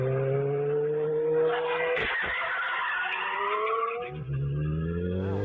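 Car tires screech and skid loudly as vehicles collide at night, with a brief impact burst partway through and engine noise continuing around it.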